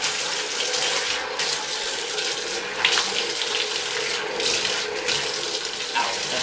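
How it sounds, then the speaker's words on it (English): Running water rinses a prosthetic leg with metal parts, making a steady, fairly loud splashing rush that keeps going without a break. "All you got to do is just rinse it off."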